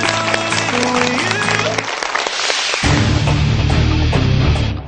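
Audience at a Korean high school quiz show applauding a team eliminated from the final round: sustained clapping under music and a host's voice, briefly dipping before swelling again.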